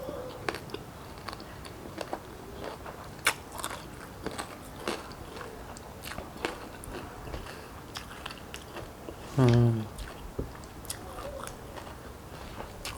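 Close-up biting and chewing of a big mouthful of Thai khanom jeen rice-noodle salad with Vietnamese pork sausage, with soft crunchy chews throughout and one louder crunching bite near the end, no talking.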